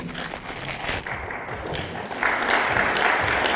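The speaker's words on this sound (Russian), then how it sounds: "Выступление Дидарова завершилось аплодисментами коллег" Colleagues in a Vladikavkaz city council chamber clap for a deputy after his speech, a steady dense applause that swells louder toward the end.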